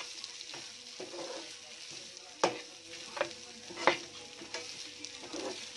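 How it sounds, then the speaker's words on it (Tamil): Thuthuvalai leaves and coconut sauté quietly in a pan, a soft sizzle broken by several sharp spatula scrapes and taps. "இதை நல்லா வதக்கணும்"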